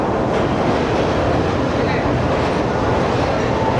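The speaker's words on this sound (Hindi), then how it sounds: "दोस्तों ये आ गई 45 अब पाकिस्तान एक्सप्रेस, जिसको रानीपुर रियासत पे हमने ओवरटेक किया था।" The Pakistan Express rolls into a station, a steady, loud rumble of wheels and carriages that fills the whole stretch without letting up.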